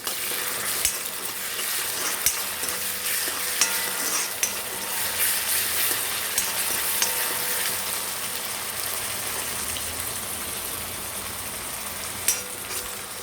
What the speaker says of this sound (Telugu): ఇది మంచిగా ఫ్రై చేసుకోవాలి.